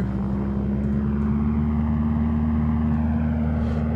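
A simulated airliner engine in X-Plane 11 drones at Palma Airport in Mallorca as the throttle is pushed up for takeoff, a loud, steady low hum throughout.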